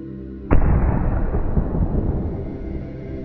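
A taser being deployed, caught as a single sharp pop followed by a dense, sustained crackling buzz that persists loudly for several seconds, close and alone.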